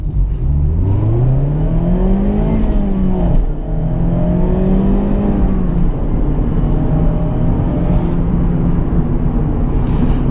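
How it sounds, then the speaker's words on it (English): A Mazda Miata accelerates hard in first gear, its engine note climbing steadily in pitch from close inside the cabin, then settling into a sustained, loud drone with slight pitch wavers over several seconds. "Do a little acceleration right here,"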